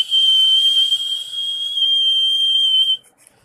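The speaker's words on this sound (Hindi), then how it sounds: "तो ये जो हमारा बजर है ये आवाज़ करने लगेगा।" The buzzer of a homemade light-sensitive LDR theft alarm sounds with a loud, steady high-pitched tone for about three seconds before cutting off abruptly.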